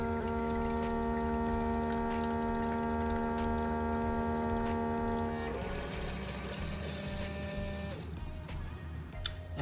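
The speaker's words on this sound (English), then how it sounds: "This is how it sounds like when the water starts warming up." A Keurig K-Mini coffee maker starts heating its water: a steady electric hum with tonal whine and faint bubbling, then the pitch shifts and the noise grows rougher and gurgling partway through, all close and continuous with no talk.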